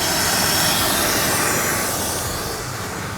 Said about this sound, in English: So you can hear the air flowing out.